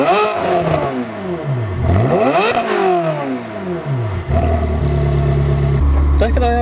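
A Ferrari engine revs hard while driving, its pitch sweeping up and down through repeated gear changes before settling into a steadier low drone, loud and close.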